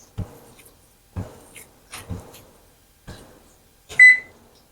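Several soft clicks of a kitchen timer's dial or buttons being set for 10 minutes, spaced about a second apart, followed by a short electronic beep, close by in a quiet kitchen.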